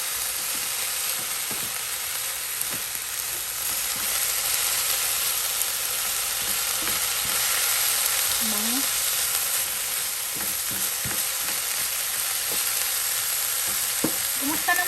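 Banana blossom filling with soy sauce and vinegar being stirred in a pan, a steady sizzling hiss with faint scraping taps scattered across the whole stretch, no talking.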